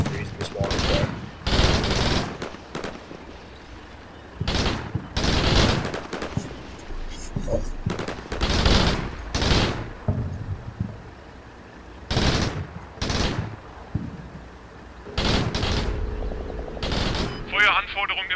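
MG3 machine guns and small arms fire in the video game Combat Mission Shock Force, repeated loud bursts of rapid gunfire separated by short pauses, with a voice talking between and over the shots.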